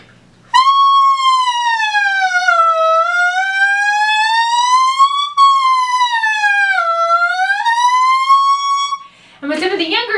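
Saxophone mouthpiece played alone in a siren exercise, a loud, continuous buzzy tone sliding smoothly down and up in pitch in two long sweeping waves, ending with a brief rough squawk.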